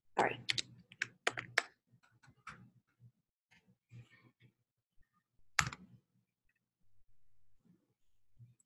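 A password is typed on a computer keyboard, with quick bursts of close, crisp key clicks followed by sparser taps and pauses in a quiet room.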